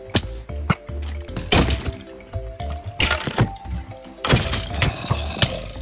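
Sharp arrow shots and hits from skeletons in Minecraft survival mode, several loud cracking thwacks and thunks in irregular bursts over a background game tone, with no speech.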